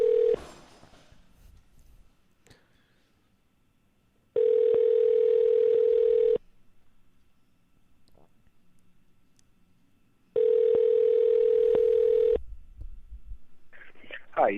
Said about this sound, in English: We're calling cell phones, ladies and gentlemen.